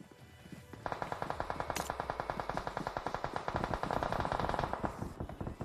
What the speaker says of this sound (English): those shots. The M46X from prone. Very minimal recoil.